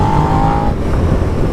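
A 2017 Suzuki SV 650 motorcycle runs through its stock exhaust, a loud, close engine drone with a steady whine that fades partway through and leaves a rougher rumble.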